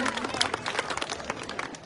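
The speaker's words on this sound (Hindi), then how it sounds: "जोरदार ताली ला दें मैडम जी के लिए।" Crowd clapping for a madam at a village gathering in Kirdhan, Fatehabad, a dense patter of many hands, moderately distant, with a voice speaking over it.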